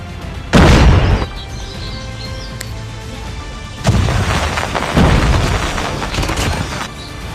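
Grenades explode in the Call of Duty video game: a loud, close boom with a crackling tail, then two more overlapping blasts later, with quieter rumbling gameplay in between.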